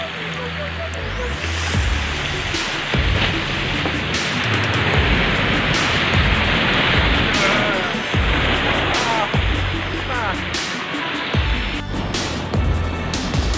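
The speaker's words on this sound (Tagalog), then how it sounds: "Ayan o, malakas na alon yan o" Heavy surf roars continuously as strong waves crash and churn against the shore at a beach resort in Paringao, Bauang, La Union, loud and close, with a voice speaking over the rumble.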